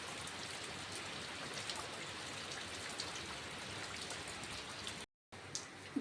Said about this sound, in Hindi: बाहर हो रहा है बारिश